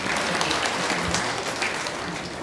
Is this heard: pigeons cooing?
no